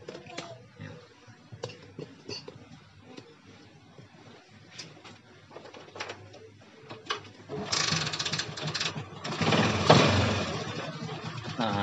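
A Yamaha Jupiter MX motorcycle with a fault that makes it die after starting idles nearby. It gives light mechanical ticking and clicking at first, then swells into a louder, fuller running noise.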